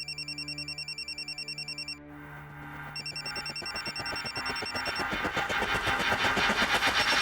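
A telephone rings in a drama scene, with an electronic ring pattern repeating in bursts that pause and resume, while a rumbling, pulsing engine-like tone builds underneath toward the end.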